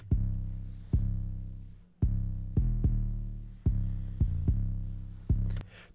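Deep, booming 808 bass notes hit in a loose rhythm, each one sliding and decaying into a long low sustain, with no voices.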